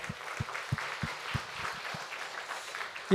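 Audience applause at a church camp forum festival, a moderate, fairly distant wash of clapping with a few louder individual claps, ending in a brief louder burst.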